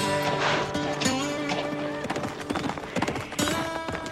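Horse hooves clip-clopping at a riding centre, a series of close, uneven knocking steps over a busy background with faint music-like tones.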